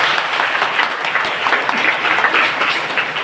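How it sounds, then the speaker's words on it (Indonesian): Sustained audience applause in a church setting during a Catholic priest's talk, steady dense clapping that fills the whole stretch without a break. "Tepuk tangan untuk kita semua."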